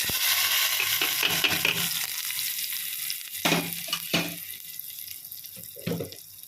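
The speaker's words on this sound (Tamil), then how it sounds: "இப்போ நம்ம இந்த தாளிப்பு இதை கொடுத்துக்கலாம்" Spices tempering in hot oil for kara chutney give a steady close sizzle and frying crackle, with a few louder sputters and clatters of stirring breaking through.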